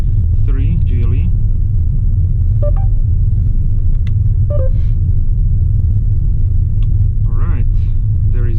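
A 2019 Mercedes A-Class AMG Line climbs a rough mountain road with a steady low cabin rumble, and a person speaks intermittently over the engine and road noise.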